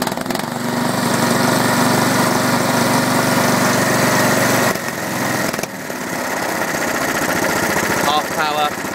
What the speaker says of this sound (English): So we can see the engine running at full power.